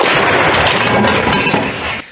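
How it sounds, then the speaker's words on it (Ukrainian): An artillery cannon fires in combat in Ukraine's Donetsk region with a loud, broad blast whose heavy roar rolls on for about two seconds before cutting off abruptly. "Гармата, постріл."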